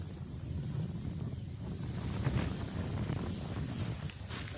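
Strong wind gusting across an open rice paddy, a steady broad roar with low rumbling buffeting on the microphone, continuous and loud throughout with no voices.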